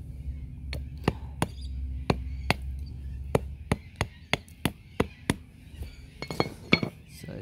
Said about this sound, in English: all I've got is this hammer